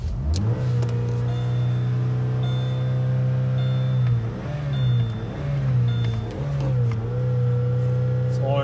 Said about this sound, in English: hold it wide open for about 20 seconds, warm it up